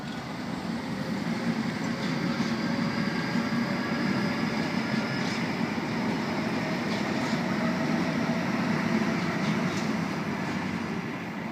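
Sydney suburban train running near Rooty Hill, a steady loud rumble of wheels and motors with faint rhythmic clicks over the rails, continuous throughout with no talking.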